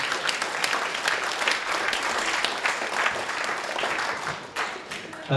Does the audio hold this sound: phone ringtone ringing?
no